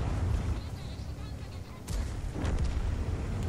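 A tank cannon fires in World of Tanks, a heavy boom landing midway through a steady low battle rumble, followed by a second muffled blast, with a voice talking over the din.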